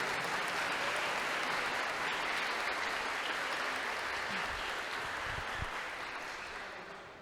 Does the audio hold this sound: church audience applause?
yes